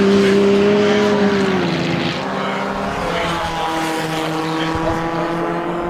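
A Nota Clubman race car, a locally built open-wheeler, running at the Winton Festival of Speed; a loud engine drone close by with a pitch drop around the pass, then a steady hum as it carries on.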